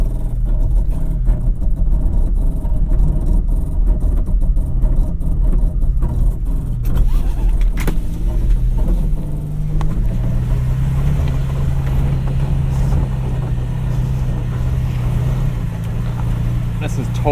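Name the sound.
Ford Maverick engine revving while pulling a stuck Toyota Tacoma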